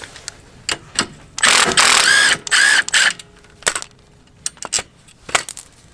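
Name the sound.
impact wrench removing brake lever nut on motorcycle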